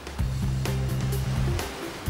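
Ocean surf in Cornwall washes and breaks continuously, a dense rushing roar with a low rumbling undertone through the whole moment.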